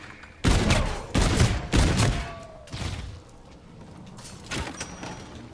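M1 Garand rifle fire in Call of Duty Infinite Warfare's Zombies in Spaceland, several loud, heavy shots spaced about a second apart, followed by quieter reload clatter and game effects.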